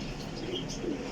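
A Sialkoti pigeon with blue eyes gives soft, low coos, quiet and close, over light background noise in a brief burst.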